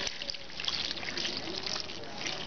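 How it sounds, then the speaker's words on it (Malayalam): Water trickles and pours into a cooking pot of vegetables with a soft, continuous splashing stream, close and fairly quiet, over about two seconds. "ആവശ്യത്തിന് വെള്ളം ഒഴിക്കാം"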